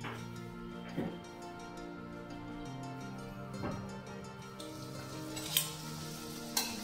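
Puri frying in hot oil in a pan, a steady soft sizzle with occasional clinks and scrapes of a utensil against metal, close and fairly quiet with no talking.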